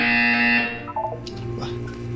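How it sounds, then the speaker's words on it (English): In an Aperture Science video game, a loud, steady electronic buzzer tone sounds for about half a second and then cuts off, leaving quieter background game sounds. "You will hear a buzzer."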